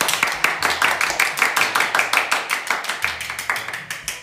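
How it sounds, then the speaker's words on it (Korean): Hands clap in a quick, even rhythm, roughly eight sharp claps per second, loud and close. "박수."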